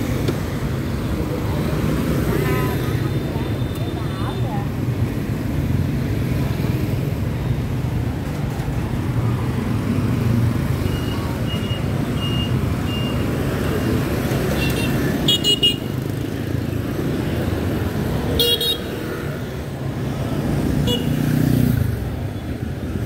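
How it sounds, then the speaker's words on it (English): Rush-hour street traffic streams past a night market in Ho Chi Minh City, Vietnam: a constant rumble of engines, with short car and motorbike horn toots scattered through it and a few sharper honks near the end. "Traffic"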